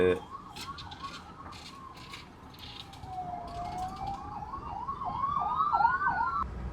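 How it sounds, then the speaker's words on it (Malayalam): An ambulance siren wails with a rising and falling tone, growing gradually louder as it approaches on the Thamarassery ghat road near Kozhikode, over steady background rumble. "ഈ ഒരു ആംബുലൻസ് ഇറങ്ങി വരുന്നുണ്ട്."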